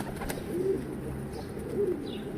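Low, soft cooing of tumbler pigeons, two short calls about a second apart that rise over steady background noise.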